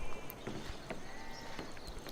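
Sheep bleating in the Civilization V strategy game, a few short bleats mixed with soft game ambience and light clip-clop sounds at a steady moderate level.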